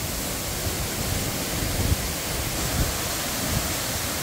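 The Cachoeira do Ribeirão waterfall in northern Minas Gerais, Brazil, roars as a steady, dense wash of falling water heard close, with no voices.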